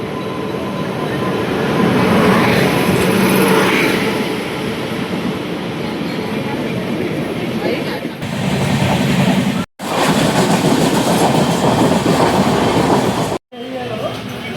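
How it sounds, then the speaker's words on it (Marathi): A train pulls into Thane railway station with a loud, continuous rumble and steady rail clatter that fills the whole stretch, broken by two brief, sharp dropouts near the end. "ट्रेन आली आहे।"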